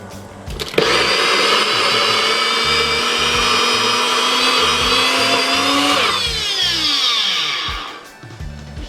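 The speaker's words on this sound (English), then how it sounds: "If it's a high-speed blender," A high-speed blender whirs loudly and steadily while blending sea moss, its pitch shifting near the end before the motor winds down and stops.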